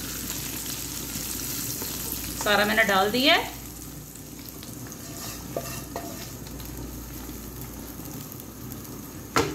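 Garlic tempering poured into a pot of yellow moong and masoor dal, a steady crackling sizzle that lasts throughout, with a brief spoken remark near the start and some faint clinks of a utensil.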